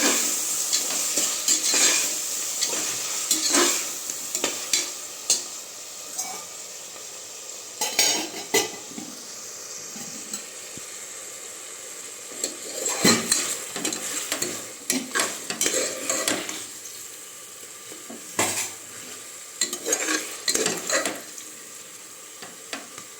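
Tomatoes with ginger garlic paste frying in a pan for coriander rice, a steady sizzle broken by repeated scraping stirs of a spoon against the pan, close and clear with no talk.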